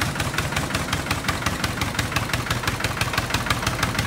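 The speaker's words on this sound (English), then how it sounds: "Now it idles down. You can drive it in an idle." A diesel engine with two injectors idles after its number one cylinder was bled, a steady, close mechanical knock repeating evenly several times a second over a low rumble, no voices.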